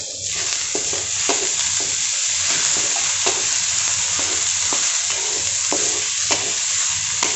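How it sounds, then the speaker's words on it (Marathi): Onion sautéing in a pan, a loud, even sizzle broken by regular scraping strokes of a spatula every half second or so, with no voices. "कांदा आपण गुलाबी रंगावर येईपर्यंत परतून घेऊयात।"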